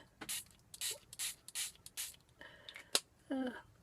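A handheld spray bottle gives several short, sharp spritzes in an irregular rhythm, close and fairly quiet, with a few soft handling clicks and rustles between the bursts.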